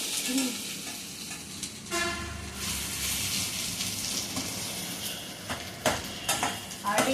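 Tomatoes fry in a pan, a steady sizzle with scraping stirs and occasional utensil clinks against the pan, close and moderately loud.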